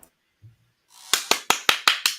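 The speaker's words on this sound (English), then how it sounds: "Where is the applause button?" A short burst of applause played as a sound effect from a button, heard as a quick run of six sharp, evenly spaced claps after a brief quiet moment.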